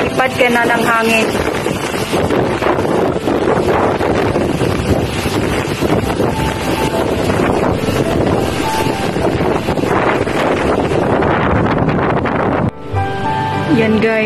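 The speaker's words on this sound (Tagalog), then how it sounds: "Parang ilipad ka na ng hangin." Powerful typhoon gusts during a Signal No. 8 storm in Hong Kong batter the mic in a continuous loud rumble, with someone talking under the noise and a brief dip near the end.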